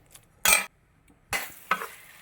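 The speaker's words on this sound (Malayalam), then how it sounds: "നന്നായിട്ട് ഇളക്കി അരപ്പ് നന്നായിട്ട് ചൂടാക്കുന്നു" Spice paste for a Kerala-style okra curry is stirred and heated in a pan, giving a few separate scraping, sizzling strokes, each a short loud burst followed by near silence, with no voices heard.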